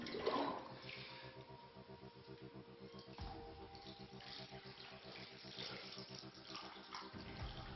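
Water poured from a lota onto a Shiva lingam: a faint, steady splashing trickle that runs on for several seconds, with a low thump partway through.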